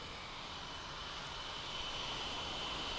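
Torras Coolify 3 neck fan on its hyper setting, a steady close-up whoosh of many small fans blowing continuously at high speed with no pauses.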